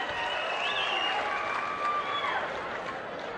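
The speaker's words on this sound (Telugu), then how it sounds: "గట్టిగా చప్పట్లు కొట్టి అభినందించండి" A seated crowd claps at a government Sanjeevani project event in Andhra Pradesh, a broad wash of applause with a faint electronic whine riding through it, the clapping steady then easing slightly near the end.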